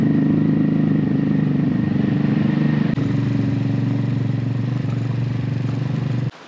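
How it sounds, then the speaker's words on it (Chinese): A motorcycle ride toward a village below Meili Snow Mountain, the engine running loud and steady with a continuous throbbing drone close by, cutting out abruptly near the end. "坐个摩托车啊进去，20块钱来回啊"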